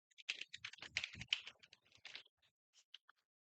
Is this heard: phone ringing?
no